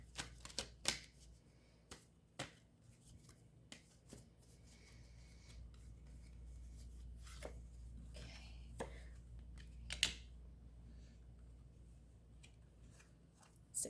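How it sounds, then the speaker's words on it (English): Tarot cards are shuffled and drawn in a quiet room, with soft papery slides, taps and scattered clicks at low volume and occasional faint talk. "So let's pull some more cards so we could clarify."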